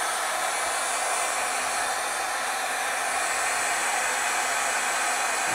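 An electric heat tool blows a steady, loud, even hiss of hot air without pause while heat-setting white ink on a stamped card scene.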